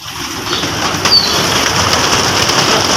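Pigeons take off and beat their wings during a pigeon-flying display on a rooftop at Chandni Chowk, a broad rushing flutter that rises and stays loud against steady outdoor background noise.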